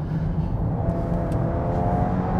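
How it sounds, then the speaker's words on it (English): A 2022 Land Rover Discovery Sport P290 petrol SUV accelerates hard, its engine droning loud and low from inside the cabin as the revs climb steadily, with no talking. "But the acceleration is rapid."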